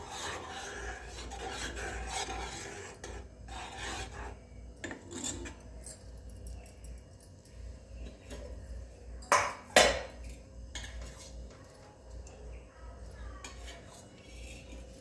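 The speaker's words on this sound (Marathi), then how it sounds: "ती साय पण आपण ह्या दुधामध्ये मिक्स करून घेणार आहोत" Spoon stirring cooled milk and its skin of cream together in a metal pot, soft rasping scrapes against the pot with a couple of sharper clinks near the end, fairly quiet and close.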